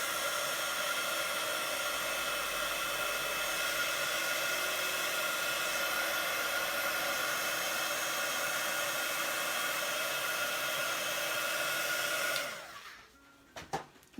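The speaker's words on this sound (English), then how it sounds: "I'm gonna have to dry it with the gun" A heat gun drying watercolour paint on a loose floral painting blows a loud, steady whooshing hiss close by for about twelve seconds, then cuts off, leaving a few faint clicks.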